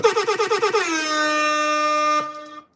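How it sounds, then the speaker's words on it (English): A loud air horn sounds in rapid stuttering pulses, then holds one long blaring tone before cutting off abruptly. "The people can bring air horns."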